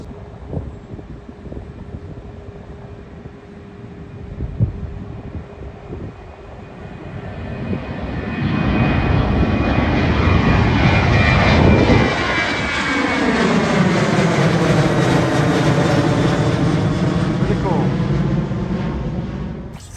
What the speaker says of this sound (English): In fact, there's a Southwest taking off, I think, right about now.